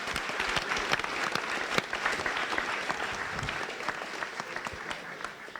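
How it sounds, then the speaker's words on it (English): A round of applause from the audience at a sports leadership and allyship forum, dense steady clapping from many hands that holds evenly for several seconds before easing off slightly at the end. "Great job. Round of applause."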